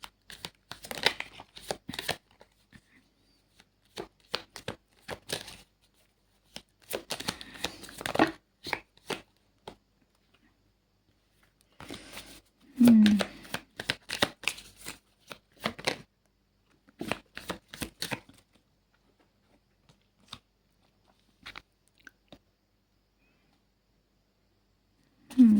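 Tarot cards are shuffled in repeated short bursts of riffling and flicking, close and fairly quiet, separated by silent pauses across the stretch.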